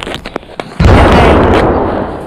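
A planet blown apart by a plasma shot in a video game: a few short pops, then a sudden loud, booming explosion that roars on and slowly fades over a second and a half.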